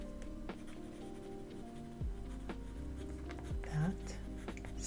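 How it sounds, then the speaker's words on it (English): A pen scratches across a sticky note in quick short strokes, close and quiet, over a steady hum and a few low background tones. "I'm going to write it down on a sticky note"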